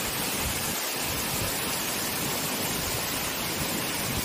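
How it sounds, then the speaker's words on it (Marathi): Katalkada waterfall at Rajapur in Konkan, running lower than usual after a dry spell, roars as a dense, unbroken rush of falling water, loud and steady throughout with nothing else audible. "किती उंचावरून पाणी पडत आहे बघा."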